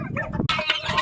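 Turkey fowl call up close in a few loud, rough clucking bursts, with a brief break midway before a brighter, harsher stretch of calling.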